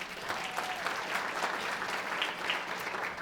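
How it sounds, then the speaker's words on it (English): Breakfast audience at a Children First Champion event in St. Louis Park gives a round of applause, a moderate, even patter of many hands heard from a distance in a large room. "Round of applause to all of you."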